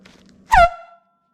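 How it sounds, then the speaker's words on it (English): A single short, loud air horn blast on a bicycle honks once and cuts off quickly, leaving silence afterward. "And then I have an air horn here if I really needed to."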